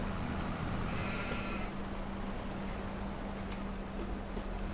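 Sheep bleating in Farming Simulator 22 over a continuous engine hum from a farm vehicle. A wavering bleat sounds early on, and the rumble carries on alone afterward.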